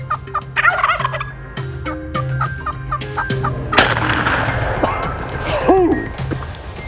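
Wild turkeys gobble repeatedly in the open during a hunt, loud rattling calls coming in bursts over low steady background noise, followed by a burst of broadband rustling and clattering.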